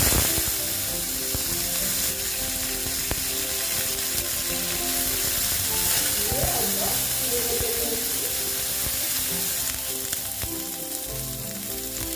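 Curry leaves hit hot oil with a loud, steady sizzle and crackle that runs the whole time, with faint clinks of a utensil against the pan and no voices.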